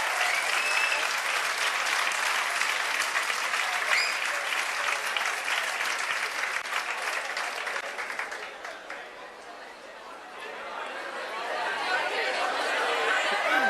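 An indoor audience at a coaching-centre gathering claps steadily for more than ten seconds. Chatter runs underneath, and the applause thins briefly before swelling again.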